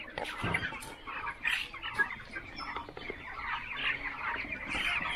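Poultry chickens on a farm cluck and chatter together in a continuous, busy chorus, a few calls rising above the rest, heard close by without speech.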